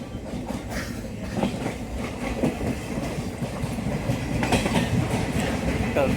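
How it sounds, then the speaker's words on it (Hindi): A passenger train rolls slowly along tracks in northeast India, with steady rumbling and repeated clickety-clack wheel beats over the rail joints, close and continuous. "ट्रेन की स्पीड भी इसलिए धीरे ही है।"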